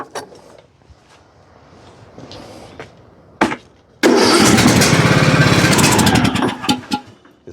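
A John Deere LA105 riding mower's engine cranks with short bursts and then catches into a loud, steady roar for a few seconds before faltering, with quieter mechanical noise at the start.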